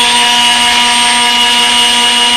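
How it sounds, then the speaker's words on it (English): An RC brushless motor driven by a Hobby King Red Brick 30A ESC runs at full throttle with no propeller, giving a steady, loud, high-pitched whine with a constant tone and no voices. "It's a full throttle. It's staying about 107. That's without a prop."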